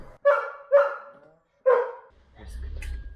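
A dog barks three times close by, with two quick barks, a short gap and then a third, each loud and clear against quiet, followed by faint rustling and movement outdoors.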